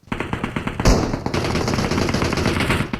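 Rapid bursts of Vector submachine gun fire in a video game, a loud, tight rattle of automatic shots with a sharper blast midway, continuing in quick succession without talk.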